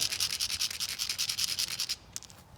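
Sandpaper is rubbed hard over a stained concrete surface in quick rhythmic back-and-forth strokes, about a dozen close scratchy passes that stop, then a few lighter scrapes.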